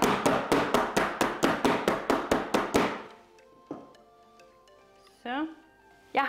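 A cheesecake tin is rapped repeatedly on a kitchen counter, about a dozen loud, evenly spaced thunks in quick succession, followed by a few softer clatters and knocks as it is set down.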